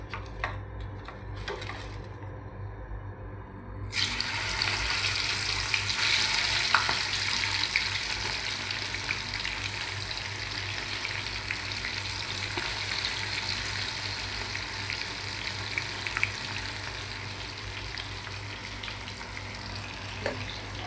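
Cut green chili pieces for bajji frying in oil, making a continuous bright sizzle that swells after a quieter opening few seconds and holds steady, with occasional faint crackles.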